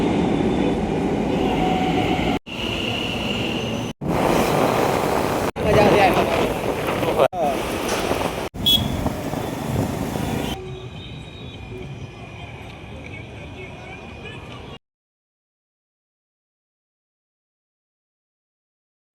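Metro train ride in Ahmedabad toward Ranip: a loud, steady rumble of the moving carriage, broken by several abrupt cuts, then a quieter stretch of running noise before it falls silent.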